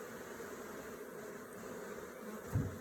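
Honeybees fan their wings at the hive entrance, making a steady, dense buzzing drone throughout, with a brief low thump near the end.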